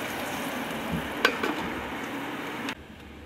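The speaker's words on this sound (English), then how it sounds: "Boiling and frying simultaneously in the one pan" Food boils and fries at once in a single pan, giving a steady, even sizzle with a faint bubbling underneath and one small clink partway through, before the sound cuts off abruptly.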